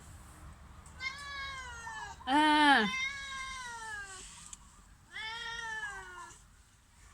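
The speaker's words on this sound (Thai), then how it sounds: "เป็นแมวแล้วลูก ตอบได้ด้วย" A cat gives three distinct meows, the middle one louder and more strained, close by in a quiet room, with a brief murmur from a person.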